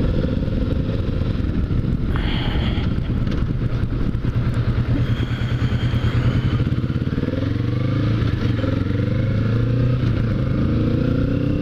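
A motorcycle engine runs nearby with a steady, throaty rumble, its pitch rising and falling slightly as it revs, accompanied by occasional clattering and thuds.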